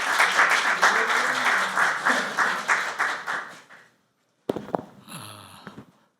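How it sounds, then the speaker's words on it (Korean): A seated audience claps to welcome a speaker at an academic conference opening ceremony, with steady, full applause that tapers off and stops, followed by a brief clatter and shuffling at the podium. "김정남 수석님을 박수로 맞아주시기 바랍니다"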